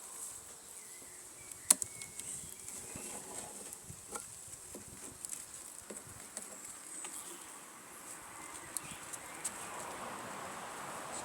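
A honeybee colony in an open hive hums with a faint, steady buzz, scattered individual bees droning past nearby, and no talking.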